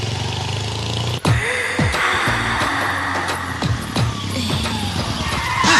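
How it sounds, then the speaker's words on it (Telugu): A car brakes suddenly and its tires skid loudly, giving repeated squealing chirps over a steady engine roar. "అదేంటంటే అన్సడన్ బ్రేక్ వేశారు"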